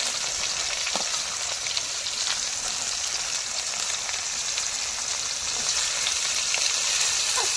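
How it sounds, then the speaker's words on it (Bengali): Chopped onions fry in a pan for a whole rooster curry, giving a dense, steady sizzle close up that runs unbroken throughout, with no one talking. "কুচি করে রাখা পেঁয়াজটাকে আমি লাল করে ভেজে নেবো"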